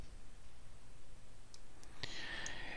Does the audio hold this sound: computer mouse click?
yes